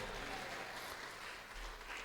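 A church congregation claps and acclaims the Lord during worship, a dense, continuous wash of applause and crowd noise at moderate distance with no clear pauses.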